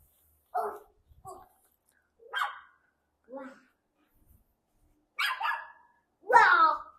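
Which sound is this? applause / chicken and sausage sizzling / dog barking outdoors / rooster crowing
dog barking outdoors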